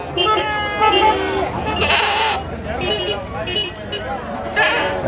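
Goats bleat repeatedly at the crowded Polur goat market in Tamil Nadu, where more than 2000 goats gather, several calls rising over steady crowd chatter and nearby voices talking throughout.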